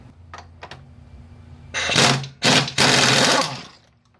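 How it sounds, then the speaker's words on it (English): Air impact wrench loosening the rear sprocket nut on a Triumph Daytona 600, a few faint clicks followed by three loud, close bursts of rapid hammering. "The next, I'm going to loosen this nut."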